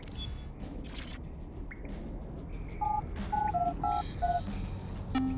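Phone keypad tones in Watch Dogs Legion, a quick run of distinct beeps dialing a call after a quiet stretch, fairly clear and close, ending with a final lower tone.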